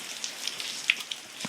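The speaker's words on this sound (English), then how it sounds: "it's certainly raining, which is shocking for Southern California weather" Rain in Southern California patters steadily on a hard surface nearby, with distinct drips popping over a soft, constant hiss.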